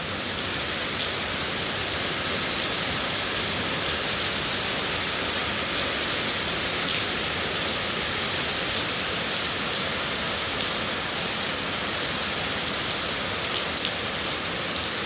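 Heavy daytime rain pours down steadily in a rural setting, a dense and even hiss of drops on surfaces that goes on without a break. No voices are heard.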